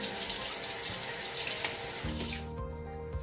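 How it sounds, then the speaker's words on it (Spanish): Tap water running steadily into a sink as a napkin is rinsed under it, a close, continuous splashing flow that shifts in tone partway through. "Y enjuagas tu servilleta."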